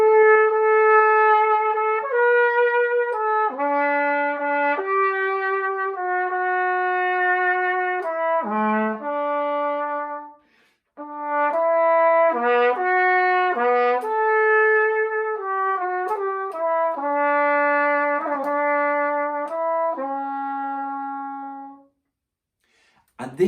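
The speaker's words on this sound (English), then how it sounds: "This is a disc valve cornet made in 1840 in London by Köhler, and it sounds like this" Antique disc valve cornet made in London in 1840, played solo in a clear, sustained melody of bright brass notes with a short pause midway, no other sounds around it.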